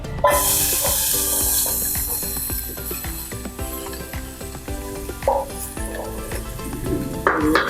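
Onion added to hot oil in a pan for a healthy home-cooked dish, sizzling loudly and steadily, with stirring scrapes and clatters close by throughout.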